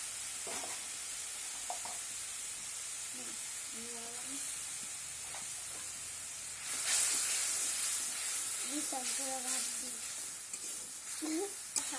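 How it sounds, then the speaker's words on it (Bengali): Vegetables dropped into hot oil seasoned with turmeric and chilli powder give a loud, steady sizzle that swells midway, with scraping stirs and a voice talking intermittently over it. "তরকারি তেলে দিলাম বিসমিল্লাহ।"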